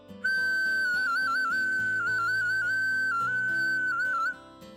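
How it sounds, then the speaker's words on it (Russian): A clay toy whistle from Kasimov, Russia, sounds one shrill, sustained note for about four seconds, warbling in small pitch dips, with soft tones humming underneath. "эти свистульки все издавали звуки, уникальные звуки"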